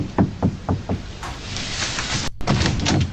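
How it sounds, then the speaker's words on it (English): Four knuckle knocks on a door, evenly spaced and fairly close, followed by a soft shuffle and a faint clunk against a steady room hum. "He was left in there by himself for 4 hours and 9 minutes before he knocked on the door to"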